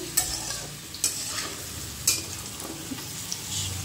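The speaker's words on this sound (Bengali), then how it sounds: "দেখো আলু আর পেঁপেটা ভালো করে ভেজে নিয়েছি" Potato and papaya pieces sizzling in a pan while being stirred, a soft steady fry hiss broken by a few sharp spatula scrapes and knocks at close range.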